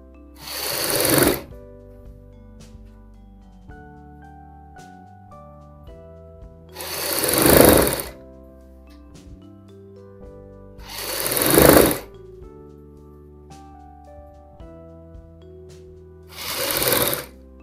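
An electric sewing machine stitches a ladies' coat collar for a kurti and suit in four separate bursts, each a close, rising buzz lasting about a second or two, with quiet gaps between them.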